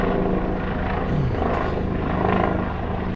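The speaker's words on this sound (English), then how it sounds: "Tom Cruise landing his helicopter on my building again" A helicopter lands on a building, a loud, steady rotor-and-engine roar that fills the whole stretch close overhead with no talk.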